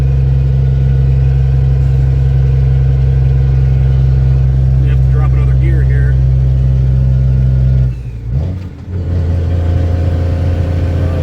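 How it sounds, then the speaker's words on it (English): A loaded dump truck's engine climbs a mountain road in Maryland in 7th of a 9-speed gearbox, a loud, steady, close diesel drone that dips briefly before pulling back up to full strength. "Climbing in 7th gear now, out of a 9-speed."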